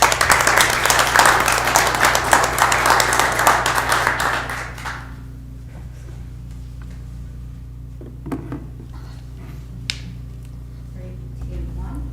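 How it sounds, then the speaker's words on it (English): A crowd claps loudly for several seconds at a city council meeting before the applause fades out, leaving a quiet room with a low hum and a few small knocks. "Another round of applause for our councilors."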